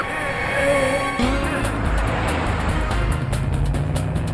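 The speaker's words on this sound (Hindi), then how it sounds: "वो चोर भाई तो स्कूटर बहुत फास्ट चला रहे हैं" In an animated chase scene, a scooter races along with a fast, continuous engine drone that builds and holds loud, with sharp clicks and clatter layered over the final seconds.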